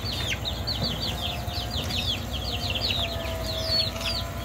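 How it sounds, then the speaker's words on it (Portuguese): Farm chickens feeding on scattered rice at a small country smallholding, with steady overlapping high chirps and soft clucks running throughout at moderate distance, no talking. "aqui tá um pouco aí das criações se alimentando"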